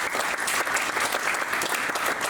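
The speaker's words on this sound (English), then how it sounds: "Big round of applause" Audience applause for speaker Glen at the Growcon 2025 event, a dense, steady wash of many hands clapping throughout, close and loud with no talk over it.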